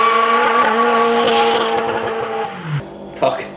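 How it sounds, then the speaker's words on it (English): A car fitted with a shotgun exhaust revs hard toward the top of its range, a loud, sustained high-pitched screech that climbs before cutting off, followed by a couple of brief sharp bursts near the end. "It like screeches as it gets to like top of the rev range."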